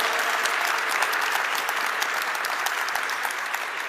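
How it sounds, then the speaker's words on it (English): An audience at a panel discussion on finance with a finance minister gives sustained applause, a dense, even wash of many clapping hands filling the room at steady loudness throughout, with no one speaking. "give them an encouragement in advance, a round of applause"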